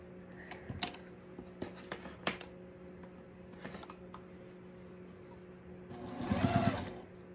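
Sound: sewing machine stitching quilt fabric squares

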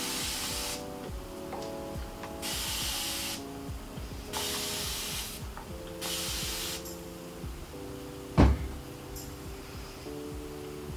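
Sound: spraying water on hair

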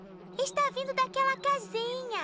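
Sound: bees buzzing in a beehive, cartoon

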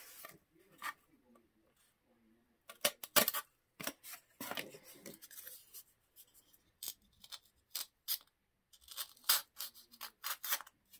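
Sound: cutting out material for a dollhouse bassinet

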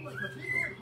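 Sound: pet Hahn's macaws calling

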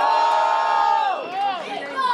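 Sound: crowd cheering and shouting to vote at rap battle

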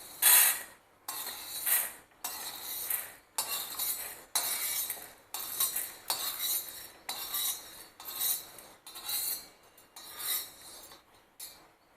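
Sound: roasted sago pearls being taken out onto a plate

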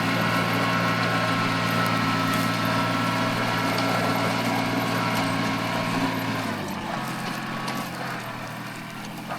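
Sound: Mitsubishi MT200 Japanese mini tractor engine running

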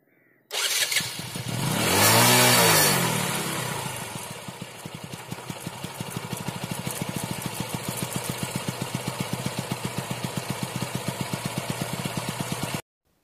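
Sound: motorcycle engine idling and revving

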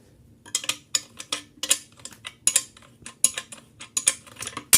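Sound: tightening the nut on a steam iron handle

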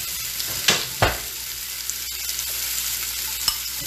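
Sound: zucchini frying in a hot pan

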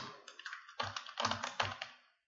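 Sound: typing on a computer keyboard

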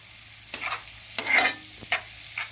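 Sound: onions frying and being stirred in a pan

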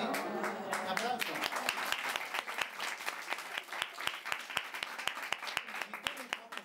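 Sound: applause

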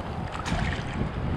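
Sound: sea waves breaking

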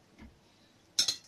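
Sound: stirring ground pepper in a pot for soup

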